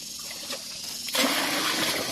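Water pours into a container while a pesticide mix is being prepared. A faint trickle builds into a loud, steady gushing stream partway through, close by with no talk.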